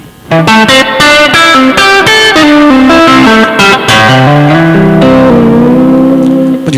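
Loud, heavily distorted electric guitar playing a run of sustained notes and chords, thick and buzzing, with no voices.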